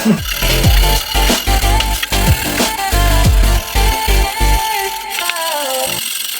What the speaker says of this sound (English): my favourite thing to do is put a bit of WD-40 and a bit of Scotch-Brite